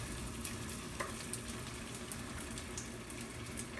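A quinoa patty fries in a pan on the stove, a continuous close crackling sizzle with small pops, steady for the whole stretch and with no talking.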